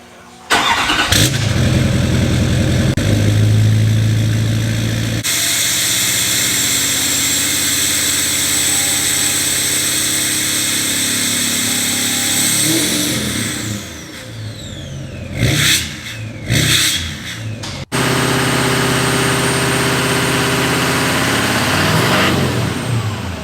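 A Duramax L5P diesel truck engine with a 64mm turbo cranks and fires up with a loud roar, then settles into a steady, rumbling idle with a brief surge in revs near the end.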